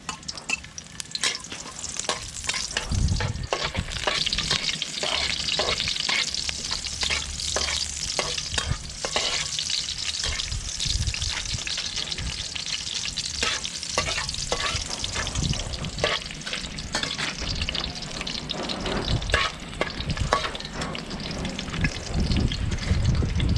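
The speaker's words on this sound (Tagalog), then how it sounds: "Lagyan natin yung bawang ay sibuyas." Garlic and onion fry in a pan while being cooked for a spicy monitor lizard adobo, giving a loud continuous sizzle broken by repeated stirring scrapes, close up and without talk.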